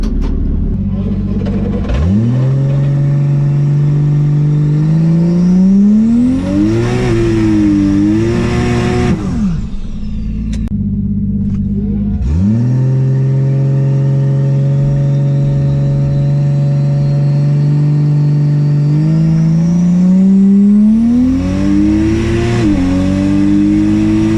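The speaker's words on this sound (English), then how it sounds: "It's idling really high too." A car engine idling unusually high, suspected vacuum-hose or throttle-sensor fault, rising into long sustained revs that fall back, pause, then climb again across about twenty seconds, loud and close.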